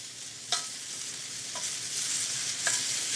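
Shrimp sizzling on a hot grill, a constant close hiss broken by three short scraping clicks as the pieces are flipped and turned.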